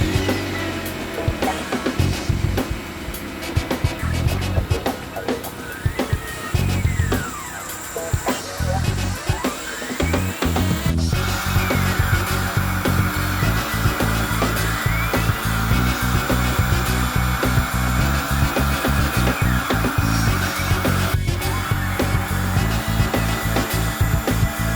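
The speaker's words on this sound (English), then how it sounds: "We're going to get that stuck down in the mill and start carving." A CNC mill carves a quarter-inch sheet of material for a decorative home sign, with a continuous grinding, rasping cut and whining motor that shifts in pitch as the bit travels, loud and close.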